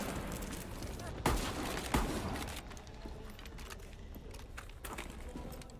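Gunfire in a Rainbow Six Siege esports grand final match: two sharp shots stand out early, followed by scattered quieter pops and clatter under steady game ambience, with talk running throughout.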